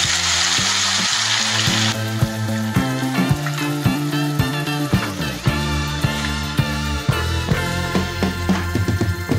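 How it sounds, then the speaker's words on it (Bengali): Water goes into spice paste frying for a pabda fish jhal, a sharp hiss at first that settles into quieter bubbling over steady background music. "মশলাটা ভালো কষানো হয়ে গেছে, এবার এতে দেবো জল"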